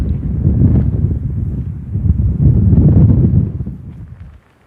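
Wind gusts rumble against the microphone in low, uneven surges on a rocky mountain trail in the High Tatras, Slovakia, for a few seconds, then abruptly drop away near the end.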